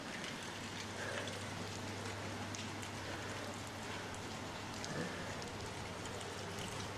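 Steady rain falls outside a window, a dense, even hiss of drops on surfaces that continues unbroken and fairly faint, with no one speaking.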